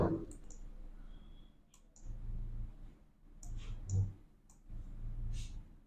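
Crisp computer mouse clicks come while someone compares documents in a word processor's review tools. A few sharp, separate clicks sound close over a low steady hum, with no talking.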